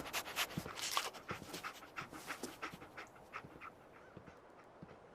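A dog in a video game, the companion Dogmeat in Diamond City, pants in quick rhythmic breaths, close and fairly soft, with the panting easing off toward the end.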